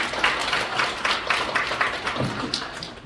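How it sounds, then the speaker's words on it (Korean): An audience claps at a book launch event in Korea, a brisk, continuous round of applause from a gathered crowd, fairly loud and close with no talk over it. "여러분 박수 한번 크게 격려을 바랍니다."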